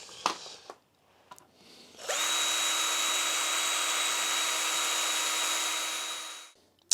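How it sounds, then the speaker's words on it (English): A power drill bores out old pop rivets while the original regulators are removed during a Microbee keyboard replacement, one loud steady whine of about four seconds after a few faint knocks and clicks, close and unbroken with no talk. "so I just need to drill out these rivets"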